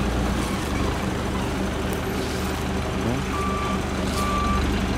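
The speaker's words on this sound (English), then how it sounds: "Now, tour bus cruising through." A tour bus rolls along a beach road at a resort in Robertsport, Liberia, on the Atlantic coast. A steady, loud engine and road roar carries a brief beeping tone near the end, with voices mixed in.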